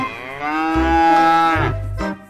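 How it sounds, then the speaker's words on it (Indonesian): A cow moos loudly and close by in a long, drawn-out call that swells and then fades, with a short second grunt at the end. "Wow, ini sapi teman-teman."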